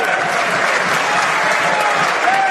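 Members applaud in the Canadian House of Commons during question period, a dense, even burst of clapping and crowd noise in a large chamber, sustained throughout.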